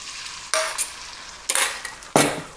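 A spinach omelette cooks in a hot pan, heard as three loud bursts of sizzling, each rising as the egg hits or is moved, with quieter frying between and no talking.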